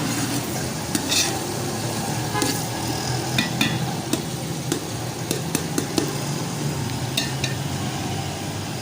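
Tomato paste sizzles and fries steadily in a pan while a utensil stirs and scrapes it, with sharp clinks against the metal, for a restaurant-style fried daal mash.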